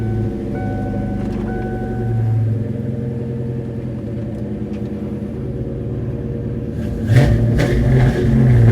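A car's exhaust rumbles steadily at close range, then rises in a short, louder rev near the end, with no talking.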